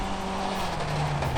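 A rally car drives fast on a dusty gravel stage at the Algoa Scribante Rally, its loud engine roaring close with a brief tire skid.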